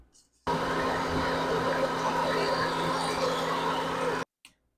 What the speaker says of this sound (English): you can turn your mixer back on high speed